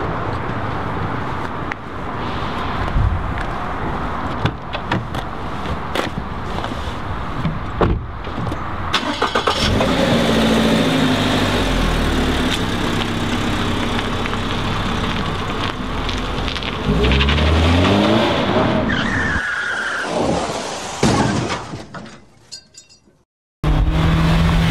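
A car's engine hums steadily as it drives along, with rain-like road noise and low rumble throughout, fairly loud, before the sound drops away abruptly near the end.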